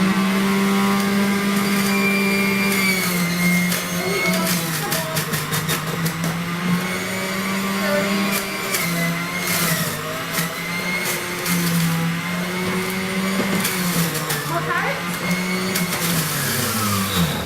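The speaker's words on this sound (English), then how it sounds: "You'll be very, very impressed with how fast it can juice this produce." A centrifugal juicer whirs loudly and continuously while carrot and celery are fed through, its high motor whine wavering slightly as produce is pushed in, alone without talk.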